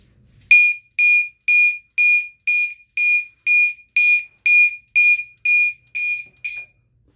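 A Simplex 4001 fire alarm system sounds in a run of about twelve loud, even electronic tones, each pulsing briefly with short gaps, clear and close.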